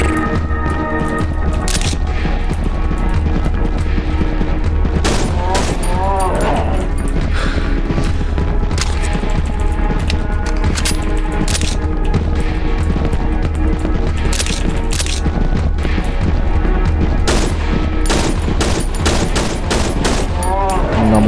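Gunfire from a weapon in the Cry of Fear video game comes as loud, repeated, fast shots throughout, with crashes and a dense din of game noise, and a voice speaks intermittently.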